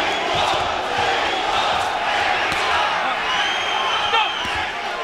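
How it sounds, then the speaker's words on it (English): A large, boisterous crowd at a professional boxing bout chants and cheers for Mexico, producing a loud, continuous roar with rising shouts. A commentator's voice runs underneath. "They're cheering Mexico."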